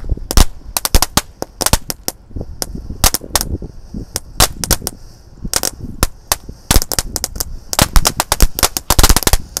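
A jumbo crackling ball fountain firework, the colorful flower power type, pops in dense, rapid, loud crackles like machine-gun bursts, with uneven rhythm and no voices over the steady spray of snaps.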